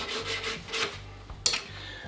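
Steel receiver of a Stevens Favorite Model 1915 rifle rubbed and polished during restoration, a few short soft rasping strokes up close, quiet and without speech.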